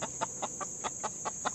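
Backyard chickens in a food forest garden cluck in a quick, evenly spaced series of about eight soft clucks, fairly faint and close, with no talking.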